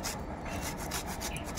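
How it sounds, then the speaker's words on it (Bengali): Peeled taro root is rubbed against a grater in quick, steady rasping strokes, close and continuous without talk. "এইভাবে বাকি কচুগুলো গ্রেড করে নেব।"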